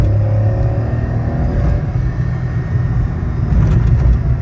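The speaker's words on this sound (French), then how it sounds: "Je vais faire un gros coup d'accélération tout à l'heure." A Toyota Aygo 1.0 VVT-i three-cylinder petrol engine pulls hard under full throttle, a steady loud droning rumble heard from inside the cabin that builds slightly toward the end, with no talk.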